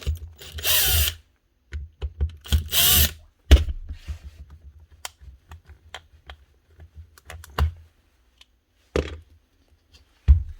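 A faulty Makita DTD154 cordless impact driver whirs in short, uneven bursts, stopping and starting with rattling clicks between runs, close by.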